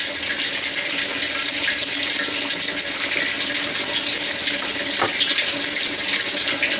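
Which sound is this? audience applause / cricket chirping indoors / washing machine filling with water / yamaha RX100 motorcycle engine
washing machine filling with water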